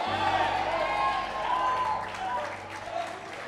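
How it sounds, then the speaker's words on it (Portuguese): Congregation applause during a church sermon, a broad wash of clapping under sustained voices and musical tones, with the clapping thickening toward the end. "Se vai aplaudir a Jesus, aplauda direito."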